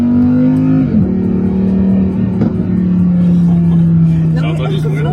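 Supercar engine running close by with a steady low drone and shifting tone, a brief dip around the first second, continuous and loud throughout.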